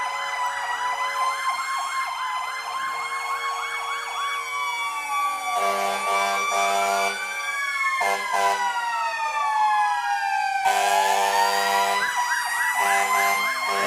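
A Frankfurt fire truck's siren in a St. Patrick's Day parade wails loudly and continuously, its pitch sweeping up and down, with deep horn-like blasts breaking in partway through, close at hand.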